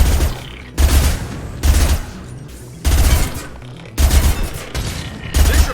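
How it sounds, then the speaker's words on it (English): Heavy, booming high-impact shots in the Mass Effect 2 video game, five or six loud blasts at roughly one-second intervals, each with a rumbling tail. "Firing a high-impact shot."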